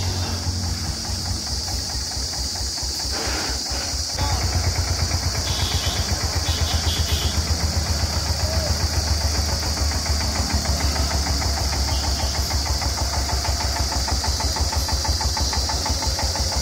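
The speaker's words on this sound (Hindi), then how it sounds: "single cylinder water cooled engine के साथ में ट्रैक्टर है ये स्वराज" A Swaraj 825 XM tractor's single-cylinder water-cooled engine idles steadily with a low, rapid knocking chug, near and continuous; a clunk and louder running after a few seconds.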